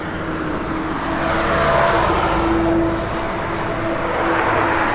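A 1965 Ford Falcon convertible with Flowmaster dual exhaust runs continuously, giving a broad, even exhaust roar that swells slightly midway, with no voices.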